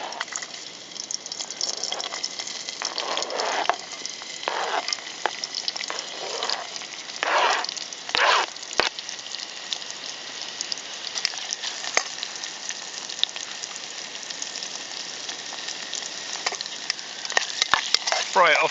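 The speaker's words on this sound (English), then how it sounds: "While I was frying the onions" Steady sizzling of onions frying in a pan at a camp cookout, with occasional clinks and stirring scrapes, close and continuous for the whole stretch.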